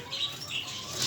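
Pigeons flapping their wings as they flutter down to eat grain, a soft, airy whir of beating wings repeating in a few quick surges, close by with no voices.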